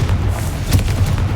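A Confringo blasting spell in the Hogwarts Legacy video game lands as a heavy, low boom with a rumbling thud, loud and close, heard alone across a short burst.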